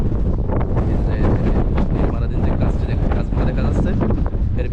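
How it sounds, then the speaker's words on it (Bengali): Strong wind buffets the microphone in a constant loud rumble and roar at the Seven Mosques in Medina, with a voice speaking faintly underneath. "ভিতরে প্রচণ্ড বাতাস বাতাসের কারণে কথা বলা যাচ্ছে না"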